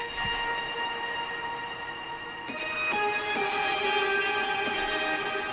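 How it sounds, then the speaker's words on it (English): Sustained, heavily processed lead guitar line in a beat, with bright layered tones that shift pitch and swell louder in the second half, playing alone without any talk. "And then with effects it sounds like this."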